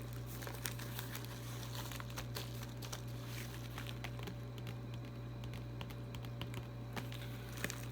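Plastic packages being unwrapped and pried open, with steady crinkling and tearing close by and scattered sharp crackles over a constant low hum.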